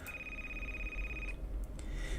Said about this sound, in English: Yet as soon as he sat down to work, the phone rang.